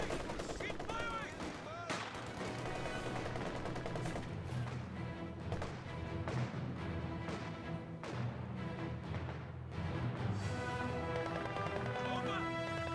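Sustained battlefield gunfire in Company of Heroes 2, dense overlapping shots and bursts that continue steadily with no pause, under a busy mix of other combat noise.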